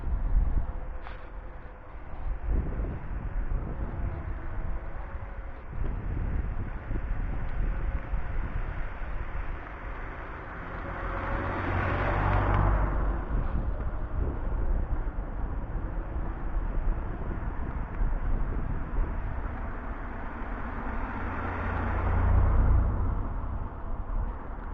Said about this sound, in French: Une voiture.